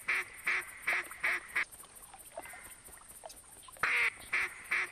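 Mallard ducks in the hunting video game theHunter quack in loud rhythmic bursts, a run of five calls, a pause with faint ambient game sound, then more quacks.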